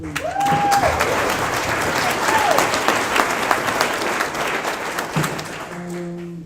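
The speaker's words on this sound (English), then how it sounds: "So big round of applause for Hoka and all our sponsors." A gathered group of runners at the pre-race meeting for the 2022 No Business 100 ultramarathon gives sustained, close applause. The clapping runs loud for several seconds before tapering, with a few voices mixed in near the end.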